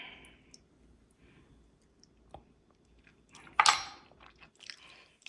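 Someone tastes a spoonful of homemade white chili: quiet close chewing and mouth clicks, with one sharper burst of noise partway through, and no talking.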